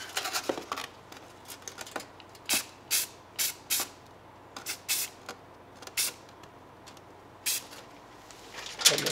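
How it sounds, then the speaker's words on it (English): Short bursts of spray paint hiss onto a model plane with aluminum foil masking the wings, about a dozen separate blasts spaced irregularly, fairly close and quiet with no talking. "And we'll give this a quick spray."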